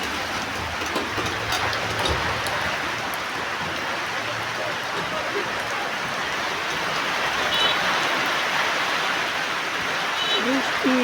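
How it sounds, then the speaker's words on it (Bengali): Heavy monsoon rain pours steadily in a broad, dense hiss during a flood threat, with faint distant sounds now and then and no voices. "বৃষ্টি কোনো থামাথামি নেই,"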